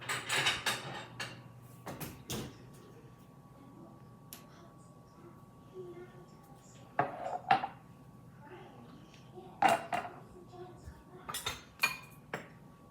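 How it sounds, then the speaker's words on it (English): Glass jars being taken out and set down for pumpkin jam, giving scattered clinks and knocks at close range, with a few sharper clatters near the start and later on, no talking. "we'll start getting the jars out"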